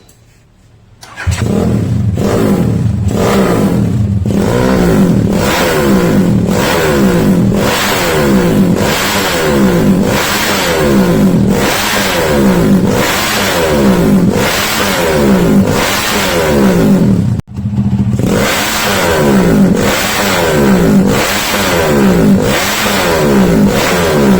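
An SND ZS 190 motorcycle engine fires up and revs repeatedly, loud and close, in a rhythmic series of throttle blips with a brief cut partway through.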